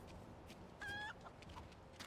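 A chicken clucking in the video game Resident Evil 4, a brief faint bok-bok cluck with a short rising call, heard once over a quiet game background.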